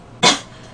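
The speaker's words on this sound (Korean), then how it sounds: "근데 매워서 기침이 나온다." A single short, sharp cough bursts out nearby during a spicy braised pork rib eating show, loud against a quiet background.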